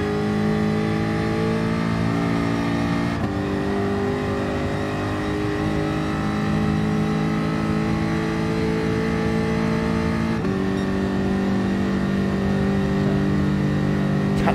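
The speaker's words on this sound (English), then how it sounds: "Bops and bangs, exactly. Lovely sound of the car." Race car engine in Gran Turismo Sport: a sustained, loud buzzing drone that holds steady with two sharp shifts in pitch, running alone without talk.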